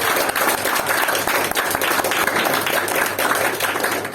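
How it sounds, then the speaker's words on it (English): Sustained audience applause at a Toastmasters club meeting in Brunei, a dense, steady wash of many hands clapping together for the table topic speakers, with no voices over it. "let's give another big round of applause to our table topic masters and our table topic speakers"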